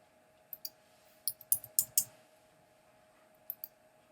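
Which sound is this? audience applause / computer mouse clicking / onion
computer mouse clicking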